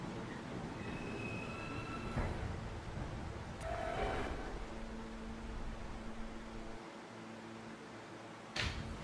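An R160A subway car on the E line runs with a steady rumbling rail roar throughout, broken by brief bright squeals and clanks near the start, middle and end.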